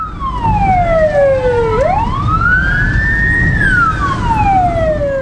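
An ambulance siren wails loudly and close by during a morning rush-hour traffic police test run, its pitch sweeping down, then rising and falling again in long, smooth glides over a low street rumble.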